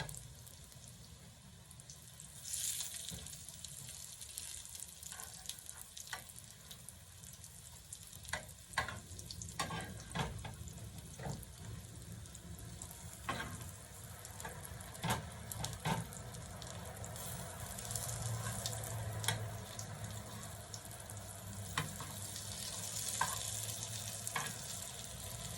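Potato cutlets fry in a pan with a steady, low sizzle and crackle that runs throughout, punctuated by occasional clicks and scraping as they are handled and flipped.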